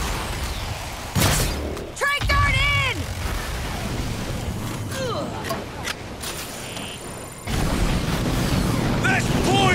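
A grenade goes off in the video game Evolve: several heavy, close booms burst out amid ongoing combat noise, with warbling creature or weapon tones in between and a loud rumbling blast near the end.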